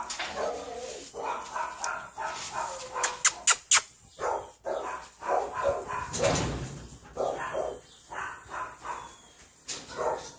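A dog barks in several short, sharp bursts, with a quick run of yips near the middle, close and fairly loud, mixed with background talk and household sounds.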